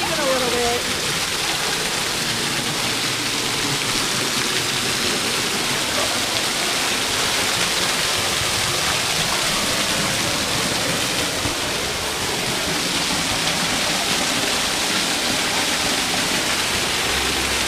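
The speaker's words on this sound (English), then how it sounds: "We're behind the waterfall and it's very loud." Grotto Falls in the Smoky Mountains roaring from behind the falling water, a loud dense constant broadband rush with no let-up, close and alone.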